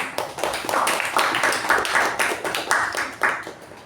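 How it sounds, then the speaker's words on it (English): A round of applause at a Toastmasters club meeting, scattered hand claps from a modest audience, steady and fairly close for several seconds with no voices. "can we have a round of applause for both the evaluator"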